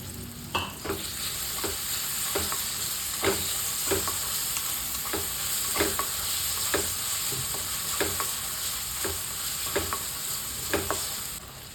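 Chopped onion and tomato sautéing in hot oil in a pan, a steady close sizzle with regular scraping stir strokes about every second throughout.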